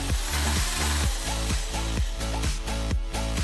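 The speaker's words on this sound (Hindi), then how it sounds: "अब एक इलेक्ट्रिक ड्रिल से बीच में एक छेद करें।" An electric drill bores a hole through the middle of an opened tuna can, a loud motor whine broken into repeated short bursts with gritty metal grinding, no voices.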